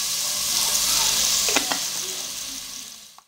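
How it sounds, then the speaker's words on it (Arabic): Onion fries in a small amount of oil, a bright, even sizzle held close for a few seconds, with a couple of brief clicks before it tails off. "ندير عليه هذيك حبة تاع البصل ونخليها تقلى شوية"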